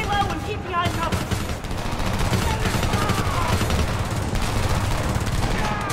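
Rapid, loud automatic gunfire from the 2011 shooter Homefront, sustained bursts in a resistance firefight with steady battle noise throughout and occasional voices.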